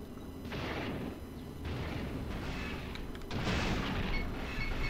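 Turbolaser fire in the space combat game Star Wars X-Wing Alliance: repeated heavy booming blasts in three or four broad bursts over a steady rumbling battle background, loud and continuous without speech.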